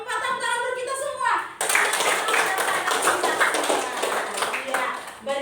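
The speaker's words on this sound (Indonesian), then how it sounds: "Tepuk tangan buat kita semua." Children in a classroom clap their hands together in quick, fairly close bursts after a voice speaks briefly at the start.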